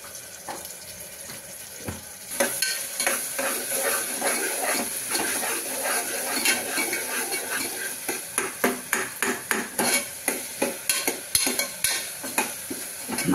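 Onions fry for mutton gravy in a pan, with a constant sizzle under repeated scraping strokes of a spoon. The stirring starts loosely and then settles into a quick, regular rhythm, with no talking.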